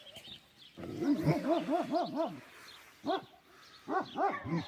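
A Kangal puppy yaps in quick rising-falling barks, a rapid run followed by a few more scattered bursts, close by and fairly quiet.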